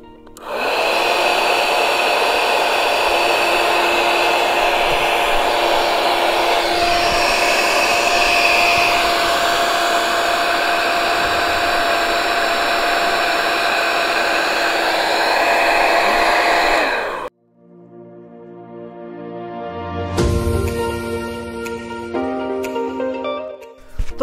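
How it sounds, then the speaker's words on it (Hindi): An electric machine run from a UPS drones loudly and steadily at close range for about seventeen seconds, then cuts out, followed by fainter clicking and rattling sounds; no one speaks. "आपको आवाज़ आ रहा है, ये यूपीएस चालू हो गया है।"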